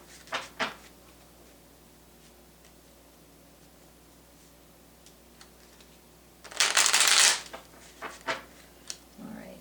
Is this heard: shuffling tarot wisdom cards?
yes